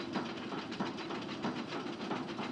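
A roller coaster train climbs a lift hill in the Planet Coaster video game, giving a continuous rumbling clatter with evenly spaced rhythmic clicks, steady and fairly loud with no voices.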